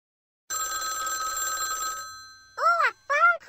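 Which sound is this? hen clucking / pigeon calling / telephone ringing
telephone ringing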